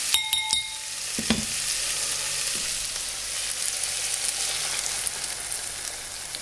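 Eggs sizzle in a hot pan with wild onions, a steady broadband frying hiss throughout with a few brief utensil clinks and a stir near the start, no voices.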